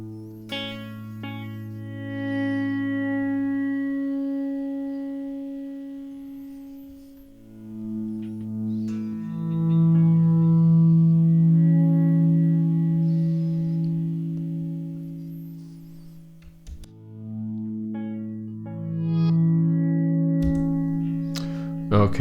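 Ambient electric guitar pad in A Mixolydian, sustained swelling chords drenched in echo and delay, steady and fairly loud throughout with a brief dip near the end, no talking.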